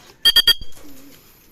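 A racing pigeon lands at the loft after a derby training flight: three sharp, close bursts in quick succession, followed by a soft, low coo trailing off, with no talk.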